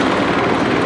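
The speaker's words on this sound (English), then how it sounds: "Helicopter." A gray and blue LAPD police helicopter passing directly overhead on a Sunday evening, its rotor roar loud, steady and continuous with no voices.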